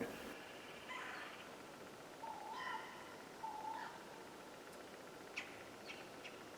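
A persistent bird calls repeatedly at night in rural Georgia woods, a series of short mid-pitched notes spaced a second or so apart over a steady background hiss of night insects, with a few faint clicks.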